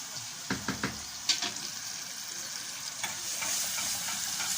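Macaroni gets stirred in a pot on a gas stove, a few soft scraping knocks from the spoon rising over a steady low sizzling hiss, fairly faint and close.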